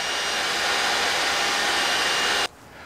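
Shop vacuum pulling string through electrical conduit, a loud steady rushing roar of suction close by that stops abruptly near the end, leaving quiet.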